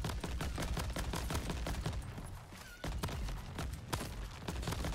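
Rapid bursts of gunfire from sniper crabs in the game Crab Champions, a dense crackling fusillade of repeated shots with sharp peaks, loud and continuous throughout.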